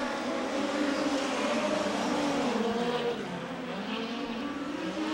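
USAC race cars speeding down the back straightaway of a dirt oval, a steady engine roar at moderate distance that sags slightly midway before holding on.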